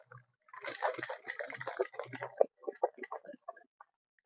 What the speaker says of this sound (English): Then shake all the ingredients properly.